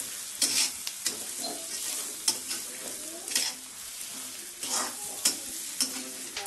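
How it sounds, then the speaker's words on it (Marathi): Chana dal and onion with turmeric being sautéed in a pan for a Marathi mixed bhaji, a steady sizzle broken by repeated scraping strokes of a spoon, close and moderately loud with no voices. "मग हळद, त्याला चांगलं परतून घ्यायचं"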